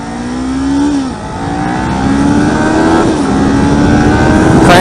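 A Kawasaki Ninja 400 motorcycle engine revving loud and close, its pitch climbing, dipping briefly between gears, then climbing again in a sustained rising drone.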